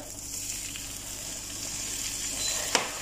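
Water poured into a hot pan of butter and cream for Danish caramelised potatoes, giving a steady close frying sizzle throughout with a sharper hiss burst near the end.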